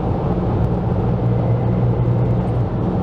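Opel Astra J 2011 2.0 CDTI diesel with a misfiring injector, its engine held at a steady rev: a continuous low, lumpy rumble, close and loud, with no voices over it.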